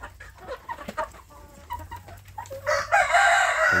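A rooster crows loudly among free-range village chickens let out from their coop, with soft clucking from the flock before one long, strained crow near the end.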